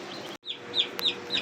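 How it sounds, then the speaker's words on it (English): Young chicks a few days old, moved from the house into a shed, chirping in short high peeps scattered across the clip over a steady background hum. "I got my little chickies from in the house"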